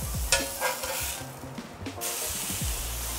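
A freshly flipped beef burger patty sizzles in the pan with a soft, steady frying hiss, broken by a few brief scrapes and clinks.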